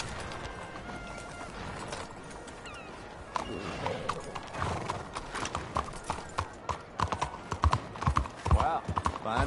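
Horse hooves clip-clop in Red Dead Redemption 2, a steady walking rhythm that grows louder and sharper in the second half, with faint low background sound and muffled talk throughout.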